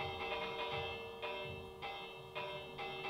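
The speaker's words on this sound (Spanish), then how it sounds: "Pensé que no servía la campana, si sirve." Bell in the Minecraft game struck repeatedly, five or so bright metallic clangs with ringing overtones at an uneven pace, each decaying before the next, fairly faint.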